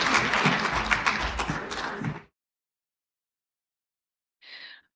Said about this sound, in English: If we could all please welcome Jenny with a warm round of applause